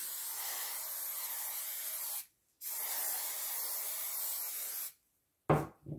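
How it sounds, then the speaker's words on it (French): Talens gloss varnish sprayed from an aerosol can onto a canvas: two long, steady hissing bursts with a short pause between, followed by a brief sharp puff at the end. "je vais vernir ce tableau avec le vernis brillant en bombe de Talens"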